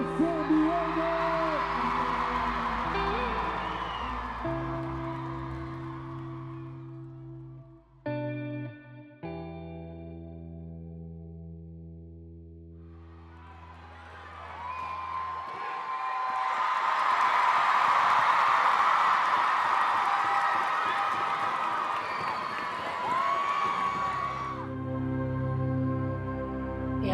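A crowd at a cheerleading competition roars for a San Diego team from the Nfinity program, a loud sustained swell of cheering that rises over heavily processed electronic music and fades as the music returns.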